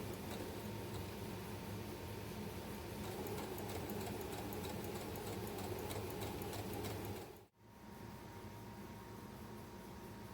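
A sewing machine runs steadily and close up, stitching fabric straps onto a tube body for a restyled Walmart garment, with a brief pause near the end before the whirring resumes.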